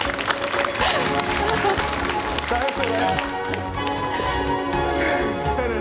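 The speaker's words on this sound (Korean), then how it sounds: "그의 인내와 노력에 아낌없는 박수가 터져나왔다" Onlookers break into warm applause after a trainee finally pulls 138 thick strands of Taiwanese dragon-beard noodles, the clapping rising amid crowd noise and ringing, bell-like tones over a busy background.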